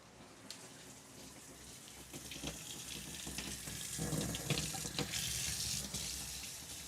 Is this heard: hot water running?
yes